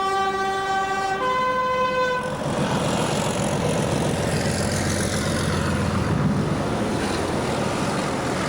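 A Class 31 diesel locomotive hauling the Orient Express sounds a two-tone horn, then passes close as a loud, sustained, broadband engine roar.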